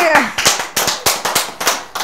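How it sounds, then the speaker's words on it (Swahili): Audience clapping comes in several short bursts of sharp hand claps, lively and fairly close, rising and fading in waves over a couple of seconds. "Haya, makofi."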